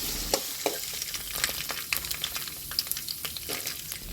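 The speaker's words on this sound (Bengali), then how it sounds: "এগুলো সব আলাদা আলাদা করে সব কোটা ভেজে নেবো" Chopped vegetables for fried rice fry in mustard oil with a soft continuous sizzle broken by scattered sharp clicks and scrapes of stirring, close and fairly quiet, with no talk.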